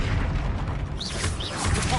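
Confringo fire blast spell exploding in Hogwarts Legacy, a rumbling broadband burst that rolls on as a continuous low boom with crackling debris over a game soundscape.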